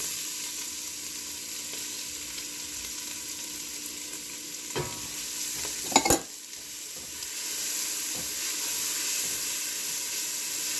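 Onion and garlic sauté with crispy chouriço in a pan, giving a steady broadband sizzle with a few sharper scrapes of stirring near the middle, close and fairly loud, no voices.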